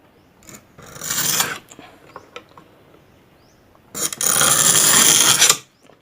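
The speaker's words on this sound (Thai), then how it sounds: "ใช้ ปลายดอกสว่านเนี่ยกรีดเลยนะครับให้มันมีเสียงดังนะครับ" Two long harsh rasping scrapes of a drill bit tip scoring ceramic tile, the second louder and steadier, with a few small ticks and knocks between them; close and loud, no talking.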